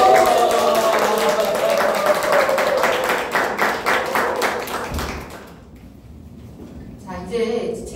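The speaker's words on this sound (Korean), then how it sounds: "박수 부탁드리고" Audience clapping at a book concert, rhythmic hand claps from a crowd that fade out midway, with a person talking over the end.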